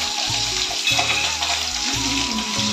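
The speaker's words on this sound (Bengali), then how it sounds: "আমি মাছ ভাজছি" Fish frying in a pan at home, a steady loud sizzle running throughout with small crackles and some clatter near the stove.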